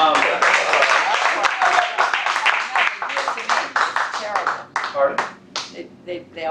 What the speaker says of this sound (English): They always clap me off too.